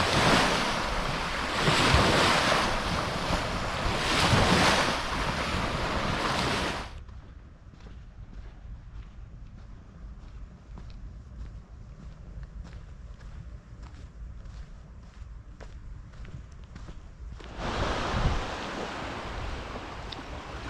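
Adriatic sea waves wash ashore at Vlorë, Albania, a loud rushing surf with wind noise that drops to a faint, distant lapping in the middle stretch before swelling loud again, with no speech.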